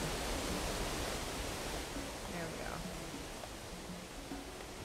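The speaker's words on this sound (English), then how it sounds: "That waterfall is really loud." A waterfall in the video game Wooparoo Mountain roars with a steady, loud rushing wash that eases slightly toward the end, while a faint voice murmurs beneath it.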